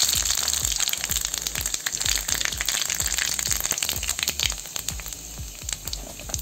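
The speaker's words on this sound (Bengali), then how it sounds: "তেল গরম হয়ে গেছে, এই যে দিয়ে দেবো 5 সোমবারি।" Five-spice seeds (panch phoron) sizzling in hot oil in a wok before pumpkin goes in, a close bright crackle with rapid repeated pops and spits, strong throughout and easing slightly near the end, no talk.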